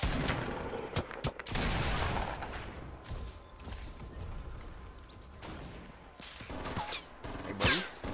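Distant gunfire in the Fortnite video game: a few sharp cracks and short bursts, faint and far off, over low ambient noise with no talk.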